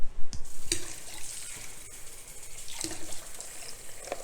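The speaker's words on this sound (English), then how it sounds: "about a 1/2 cup of water." About half a cup of water is poured into a blender for cashew cream, a close, short splashing pour with a few clinks and knocks around it.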